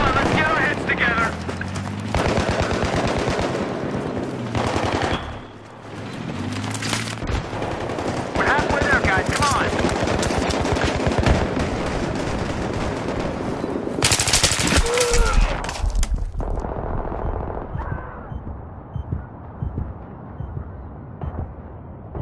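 Rapid automatic gunfire from a vehicle's rear gun in Battlefield 3 during a hardcore squad deathmatch, loud sustained bursts mixed with explosions and booms, with voices talking over the shooting.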